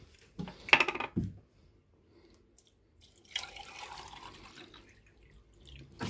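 Distilled water poured into a small sea monkey tank: a few brief clicks and taps first, then a steady, soft stream of pouring water for several seconds.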